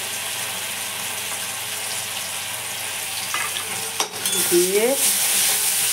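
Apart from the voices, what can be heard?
stirring chicken frying with soy and tomato sauce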